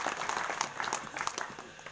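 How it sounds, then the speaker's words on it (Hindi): An audience claps in applause at a devotional gathering, a soft, continuous patter of many hands that stays fairly distant and even throughout. "एक बार फिर जोरदार ताली बजा दीजिए"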